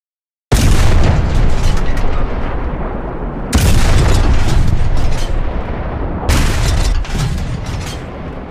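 Three massive cannon blasts from War Thunder, each a sudden loud boom with a long rumbling decay, spaced a few seconds apart and heard alone without talk.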